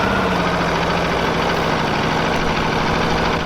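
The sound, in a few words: Aprilia V4 1100 Factory motorcycle engine idling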